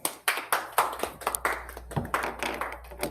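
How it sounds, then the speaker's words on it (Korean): A small group applauds after a university materials safety seminar, a few hands clapping in uneven bursts close to the microphone for about three seconds. "너무 좋은 세미나 해주신 송승범 교수님께 다시 한번 감사의 박수를 드리고요"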